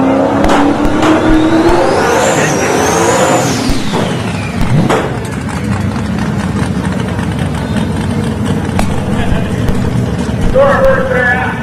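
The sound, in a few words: drag racing cars, Chevy Nova versus Ford Mustang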